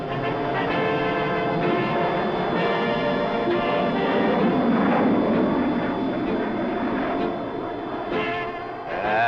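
A loud, continuous jet roar that swells and rumbles overhead, dominating throughout before easing slightly near the end.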